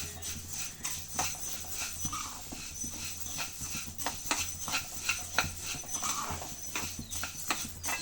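Coriander seeds are stirred and fried in a pan, giving a repeated scraping and rattling of a spoon against metal, close and moderately loud, with an uneven rhythm and no voices.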